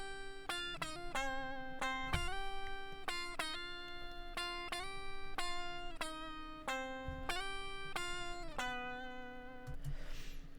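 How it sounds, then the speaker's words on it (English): Two layered lead guitars recorded direct with an octave-up pitch effect and rolled-off top end, playing a melodic line in bright, sustained, harmonically rich notes that change pitch in steady steps, loud and upfront with no talk. "I added these two lead guitars that kind of go along with the melody"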